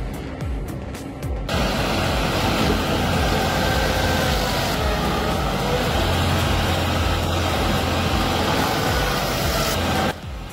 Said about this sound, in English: Observe the Fox 1300 in action. Powered by a 75 kilowatt drive, it delivers uncompromising shredding performance.